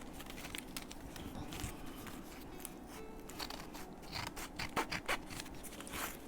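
Scissors snip through paper for a keepsake journal, a quiet close-up series of irregular crisp cuts and rustles.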